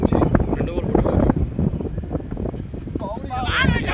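Strong wind blows across an outdoor cricket ground during a local tournament match, a steady rough buffeting roar over the microphone that continues without letup beneath a commentator's voice.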